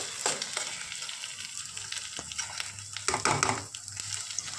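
Onion egg fry sizzling loudly in a hot pan as it is turned over and stirred, with scraping and tossing bursts over a steady crackle.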